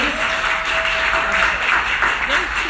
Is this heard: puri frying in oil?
no